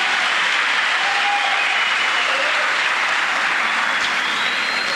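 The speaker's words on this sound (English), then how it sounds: "Can you clap once for yourself, all young people?" Young athletes in a crowd at the launch of a regional youth games event applaud together, a dense, loud wash of clapping that holds steady throughout.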